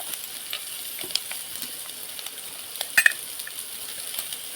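Mutton blood fry sizzles steadily in a pan while being stirred, a soft constant crackle with a few sharper scrapes and pops, no voices.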